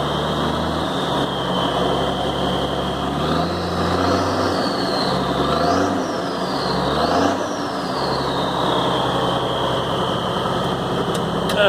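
A 1970 M35A2 deuce and a half truck's turbo engine running, a steady close diesel drone with a turbo whine that rises and falls in pitch several times.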